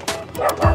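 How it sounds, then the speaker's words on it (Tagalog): A dog barks in a short, close burst of yips and bow-wow sounds, loud and sharp, with no other noise around it. "Ano yun? Ibang aso."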